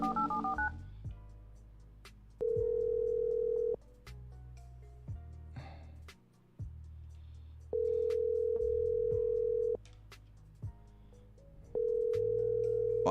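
Telephone keypad tones and steady beeps from a phone call being forwarded to an automated voicemail system, with three long sustained tones separated by shorter dialing beeps and pauses, clear and close.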